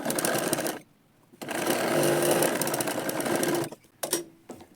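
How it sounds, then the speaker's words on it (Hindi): Sewing machine stitching a katori blouse, running in two loud steady bursts broken by a short pause, then stopping and giving a few brief final stitches, close by with no talking. "अब इसमें मैं यहाँ पे सिलाई लगा दूँगी क्रीच वाली।"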